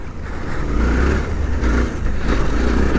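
A Suzuki V-Strom 800DE adventure motorcycle engine revs hard and close, its loud rumbling roar swelling and dipping as the throttle works, mixed with wind rush and no talking.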